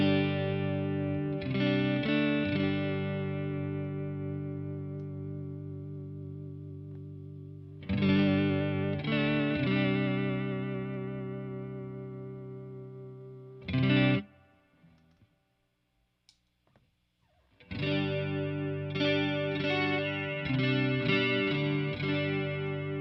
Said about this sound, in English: Here's the same setting in the vibrato.